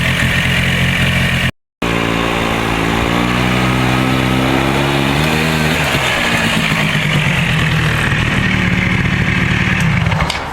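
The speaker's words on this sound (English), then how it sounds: "this is only a 1-speed, so I will show you it driving" A Polaris Sportsman 90 single-speed ATV engine drives along, loud and close, its buzzing small-engine whine climbing in pitch as it picks up speed after a brief dropout, then holding a steady drone.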